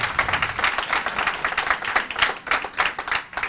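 Audience clapping at a school board of education meeting, a dense, close burst of many hands applauding steadily for a few seconds with uneven peaks, and no speech over it.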